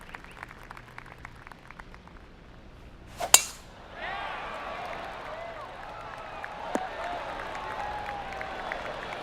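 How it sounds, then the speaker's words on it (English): Polite golf crowd applause at a tournament, a soft swelling patter of clapping that follows a sharp impact and continues steadily and fairly quietly to the end. "Oh, golf clap."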